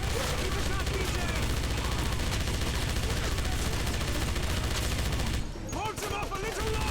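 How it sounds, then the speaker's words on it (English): MG-42 machine gun in the 2009 PC game Wolfenstein, firing in sustained rapid bursts with dense overlapping gunfire and battle noise, loud and close, cutting off briefly near the end, while voices talk underneath. "BJ, man the machine gun and take out the incoming troops"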